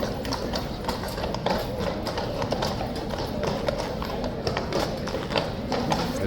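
Horse hooves clip-clop steadily on hard ground at Horse Guards in London, a continuous busy rhythm of many taps against crowd and street noise, with faint voices in the background.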